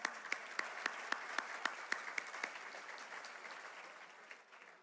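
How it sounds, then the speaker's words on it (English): A business luncheon audience claps for a morning panel, the applause faint and distant, with a sparse run of separate sharp claps that thins out and fades over a few seconds. "Let's give them a round of applause."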